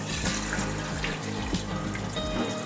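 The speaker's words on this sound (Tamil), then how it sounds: "இப்போ தண்ணி சேர்த்துக்கிறோம்" Water poured from a measured tumbler into a cooking pot for tomato rice, a faint steady running and splashing stream with no talking.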